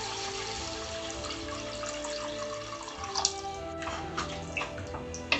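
Water poured steadily into a cooking pot while preparing plain kuska, a continuous running splash with a few small clinks near the end, close by and moderately quiet.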